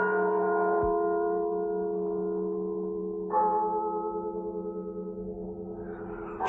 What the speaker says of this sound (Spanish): el doble de las campanas